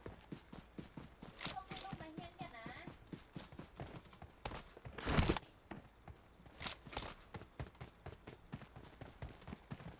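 Enemy footsteps in PUBG Mobile, a fast run of soft, close thuds with a few louder impacts and brief game sounds, while voices talk quietly underneath.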